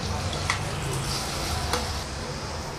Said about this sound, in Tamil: இஞ்சி பூண்டு பேஸ்ட்டும் பச்சை மிளகாயும் சேர்த்துடலாம் இப்போ ரெண்டு நிமிஷம் நம்ம நல்லா வதக்கிக்கலாம்